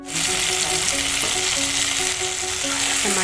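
Vegetables fry in a pan on the stove with a steady, close sizzle and a few light stirring scrapes running throughout, no voices.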